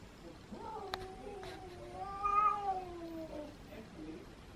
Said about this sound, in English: Is the mean cat at the back door?